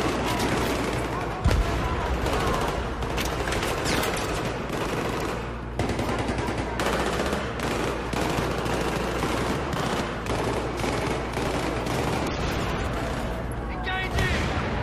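Gunfire in Battlefield 3 during the Bank Plaza Takedown mission, dense bursts of automatic fire and repeated loud shots cracking close, with heavier booms mixed in and a voice talking underneath.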